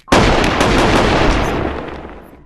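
Gunfire from a mod menu gun in the VR video game Animal Company: a loud, sustained rapid burst of shots blending into a continuous roar that slowly fades over about two seconds, with no talking.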